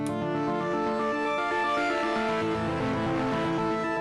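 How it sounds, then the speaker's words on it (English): Sustained music with a buzzy, overdriven distortion from the Softube Saturation Knob plug-in on its tones, thick and gritty, playing continuously without any talking. "It just sounds a bit too distorted there"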